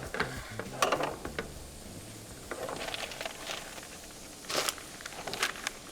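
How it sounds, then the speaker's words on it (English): Chopped onions and celery cooking gently in a pan, a soft steady sizzle broken by scraping, clinking stirs from a utensil against the pan. "I'm just going to simmer that just for about 5 or 10 minutes, just until they get tender."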